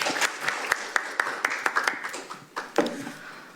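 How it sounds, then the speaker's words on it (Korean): An audience at a gathering on broadcasting and press issues applauds to welcome a speaker, with distinct claps standing out from a lighter spread of clapping that thins toward the end. "박수를 맞아주십시오."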